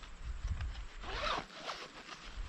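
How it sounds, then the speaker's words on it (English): A small zipper pouch is unzipped up close, a quick rasping pull of the zip teeth after a soft handling rustle, heard alone and fairly quiet. "Little zipper pouch."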